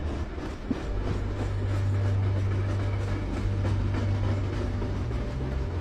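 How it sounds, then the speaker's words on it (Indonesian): Train running through the Gotthard Base Tunnel in Switzerland, the deepest and longest rail tunnel, giving a steady, loud low rumble with faint rhythmic clatter throughout, and no voices. "Emang kereta bisa melaju sampai sedalam ini ya?"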